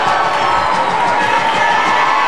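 A home crowd cheers and roars at a Steamboat Sailors ice hockey game, a loud, steady wash of voices filling the arena throughout.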